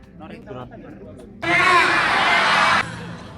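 An audience breaks into a burst of applause and cheering that lasts just over a second, loud and broad, following some talk and crowd murmur.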